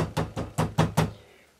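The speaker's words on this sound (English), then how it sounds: "turn it over, to knock the clay" Clay is knocked into a pottery stamp carrying a Winchester Cathedral design: five or six sharp, close wooden thumps in quick succession, the last one fading into quiet.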